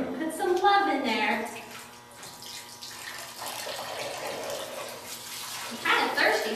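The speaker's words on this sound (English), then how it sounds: "Okay, put the water in." Water is poured into a container while making homemade slime, a splashing pour that swells and fades between bursts of children's excited talk and squeals close to the source.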